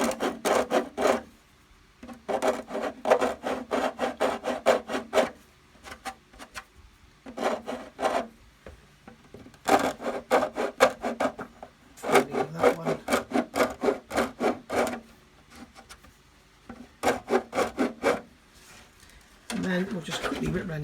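Edges of a Tamiya 1/10 RC GR Yaris polycarbonate body being deburred by hand: bursts of close, rapid rasping strokes in repeated runs separated by short pauses, with a voice talking in between.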